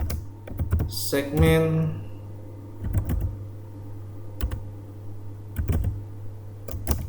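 Typing on a computer keyboard, short clusters of light key clicks spread across the clip, with someone speaking briefly near the start over a low steady hum.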